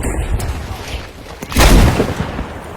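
A heavy artillery cannon boom in Battlefield V bursts out midway, loud and rumbling, amid steady gunfire-like background noise.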